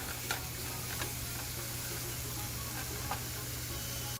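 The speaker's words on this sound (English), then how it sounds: "Now I'm going to add some mushrooms and olives and stir fry them along with the vegetables for another 5 minutes." Mushrooms, olives and vegetables sizzle softly in a pan for sausage spaghetti, a steady hiss with a few light stirring scrapes over a constant low hum.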